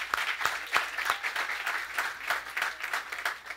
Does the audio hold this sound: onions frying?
no